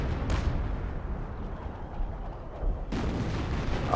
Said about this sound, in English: Oh man, it's Artillery Armageddon here. There's shells going every which way, just flying past each other in the air.